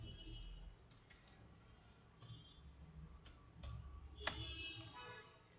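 Someone types on a computer keyboard in short, uneven bursts of soft keystrokes and clicks, with brief pauses between them. The typing is faint and close, and no one talks.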